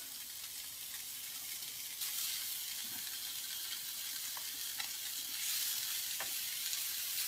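A tuna steak sears in a hot seasoned pan with a continuous bright sizzle that swells slightly partway through, dotted with small spits and pops, heard alone without talk.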